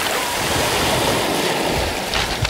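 Surf washing back off the shore makes a continuous broad rushing hiss, steady and fairly loud, with a couple of brighter splashes toward the end and no voices.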